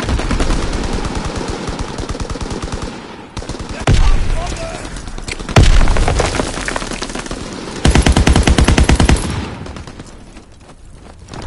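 Call of Duty WWII battle gameplay with dense, loud gunfire: rapid machine gun bursts and single cracking shots over constant battlefield noise, a few heavier booms, and intermittent radio-style voices underneath.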